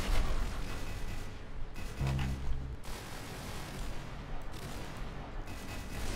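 Musket and other gunfire in the Roblox shooter Arsenal, a dense continuous barrage of game shots with a heavier low boom near the middle, loud and steady without talk.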